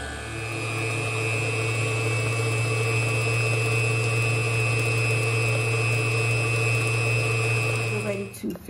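Sweet potato pie filling with vanilla being mixed by an electric appliance, a loud, steady motor whine that holds evenly for several seconds and then cuts off with a rattle at the end.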